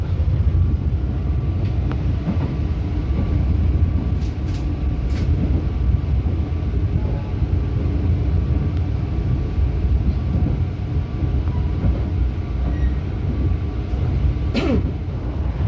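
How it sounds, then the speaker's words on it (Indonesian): Blambangan Express passenger train on the long Jakarta route just departed Cirebon Prujakan station, heard from inside as a steady loud low rumble and rail roar with occasional brief clicks, no talking. "perjalanan kereta api Blambangan Express telah lepas stasiun Cirebon Perujakan"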